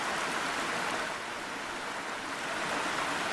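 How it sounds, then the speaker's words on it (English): Ambient waterfall effect in the Foundry VTT tabletop app, with bubbling water beneath it: a steady, dense rushing wash that holds at an even level throughout, with no voices. "we've also got the bubbling water underneath it as well"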